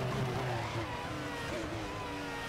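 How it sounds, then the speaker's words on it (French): A race car in the Raceroom video game runs hard with its front brakes and wheels locking, giving a continuous engine drone with faint tyre squeal. The sound stays steady and quiet throughout. "Et on bloque beaucoup les freins et les roues à l'avant"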